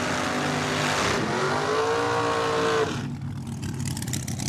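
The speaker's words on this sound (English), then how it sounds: "Here's Scrappy Doo in his dragster." A dragster engine at Cordova Dragway during an Independence Day event, loud and close, rising in a sustained revving roar before cutting abruptly into a rougher, quieter rumble, with no talking.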